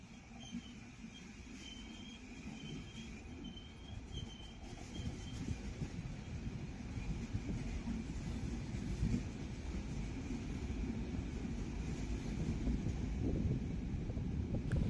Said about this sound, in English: We are now passing one of the Montenegrin Railway's new CAF trains used on regional services across the country.